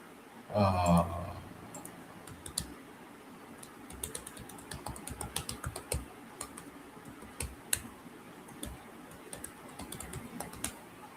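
Quick, light keystrokes on a computer keyboard as a password is typed, with soft irregular clicks coming in short bursts across the quiet room after a brief louder bump at the start.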